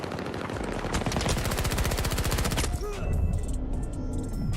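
Rapid automatic gunfire in Battlefield 2042 rattles out in a steady, fast burst for nearly three seconds, then stops, leaving scattered distant shots and game noise.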